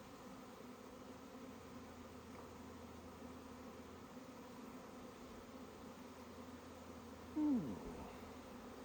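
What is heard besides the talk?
honeybees buzzing in a hive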